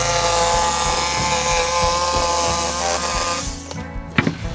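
A jigsaw cuts plywood for a patio deck box with a loud, steady buzzing motor and a rapid reciprocating chatter, then winds down and stops near the end with a couple of knocks.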